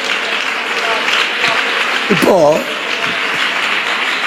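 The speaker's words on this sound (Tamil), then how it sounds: "கைத்தட்டி ஆண்டவருக்கு ஸ்தோத்திரம் பண்ணுங்களேன்." A church congregation claps hands in praise, a dense steady wash of clapping throughout while a voice speaks briefly over it midway.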